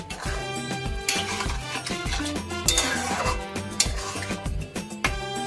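Gram flour batter stirred into a ridge gourd curry in a pan, a steady run of metal spoon scrapes and clinks against the pan, close and fairly loud, with no talk.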